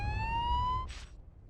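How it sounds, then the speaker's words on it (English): An ambulance siren in a Spider-Man 2 video game cutscene, one rising electronic wail, moderately loud and steady, that breaks off into a brief noisy burst. "It sounds like an ambulance is coming."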